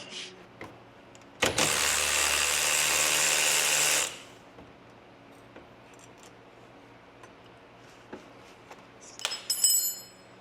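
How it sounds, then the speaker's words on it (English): Power tool whirring for a few seconds while brake caliper bolts are backed out on a 1997-2008 Corvette during rear wheel bearing work, with light metallic tool clinks around it and a brief clatter near the end. "you're going to need 18 millimeter to just kind of hold it while you back these bolts out"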